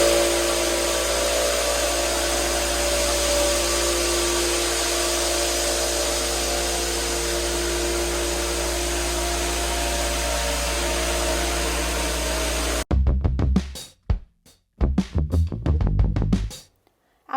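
A floor sander with 60 grit sandpaper grinds across an old parquet floor, stripping the finish. The motor drones loud and steady for about thirteen seconds, then cuts off into a few sharp knocks and clatters.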